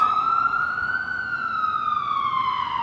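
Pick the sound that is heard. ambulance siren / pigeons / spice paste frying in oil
ambulance siren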